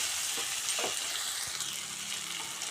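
Tomatoes with ginger-garlic paste sautéing in a hot pan, a steady close sizzle and hiss with a few soft stirring scrapes, no talk.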